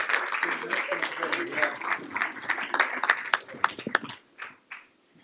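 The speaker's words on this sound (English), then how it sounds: "Another round of applause." Applause from the audience at a November 2024 school board meeting, a scattered round of claps under murmured voices that thins out into a few last isolated claps.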